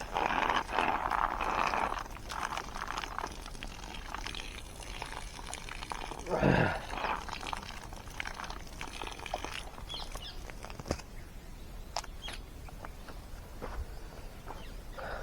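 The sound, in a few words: water flowing back from a pipe at a farm well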